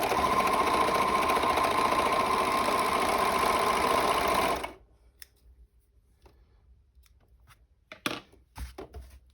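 Overlocker running with differential feed on a jumper seam: a fast, steady mechanical whirring for about four and a half seconds, close and loud, then stopping, followed by quiet handling clicks and rustles.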